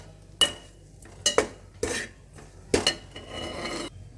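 Grated coconut is stirred in a warm pan with a metal spoon. Sharp scraping clinks and knocks come in irregular bursts against the pan, close and clear, with light sizzle between strokes.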